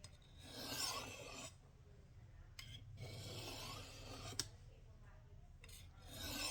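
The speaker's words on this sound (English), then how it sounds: "Holding the blade straight as possible and coming straight down and pulling at the same time." A Kershaw Camp 10 knife is drawn down the rods of a Lansky TurnBox sharpener, giving soft scraping, rasping strokes in a few separate passes with quiet pauses between them.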